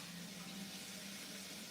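Water runs steadily from a household tap in a soft, continuous hiss with no breaks, heard quietly and alone with no talking.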